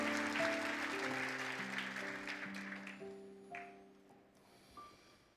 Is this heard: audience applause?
yes